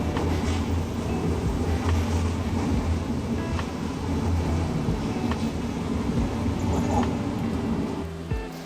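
A train rumbles continuously at a Tokyo railway station with a low, rolling clatter, loud and close, while faint voices murmur in the background.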